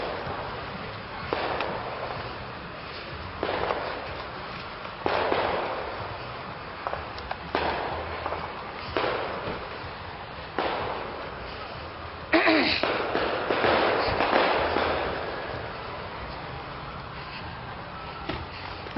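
Fireworks explode at a July 4th display, booming every couple of seconds as distinct sharp bangs, with a louder burst of crackling near the end and faint crowd noise between.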